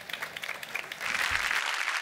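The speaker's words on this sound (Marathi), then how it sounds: "यांच्यासाठी खरंच जोरदार टाळ्या." Studio audience on a Marathi TV comedy show breaks into applause, brief scattered clapping swelling into a fuller, steady round of clapping.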